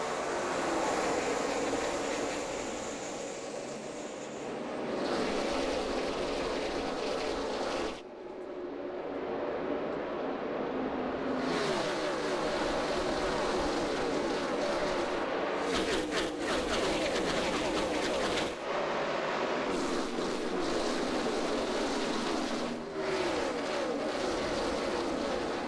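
NASCAR stock cars thunder away at the start of the 2011 Coca-Cola 600 at Charlotte, a dense continuous engine roar that swells and surges as the field passes, loud and sustained throughout.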